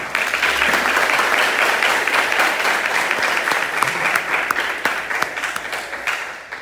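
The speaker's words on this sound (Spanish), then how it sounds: "Quiero un aplauso para Jesús Pinedo" An audience at a fight event's ceremonial weigh-in applauds loudly and steadily, with dense clapping that carries on throughout and tapers slightly at the end.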